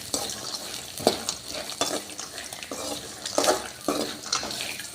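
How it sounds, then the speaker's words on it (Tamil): Peanuts, curry leaves, garlic, green chilli and tamarind dry roasting together for chutney, with soft crackling and repeated stirring scrapes in the pan at close range. "இது கொஞ்சமாகும் போது எல்லாம் ஒட்டுக்க சேர்த்து வறுக்கிறோம்."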